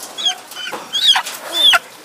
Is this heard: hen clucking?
yes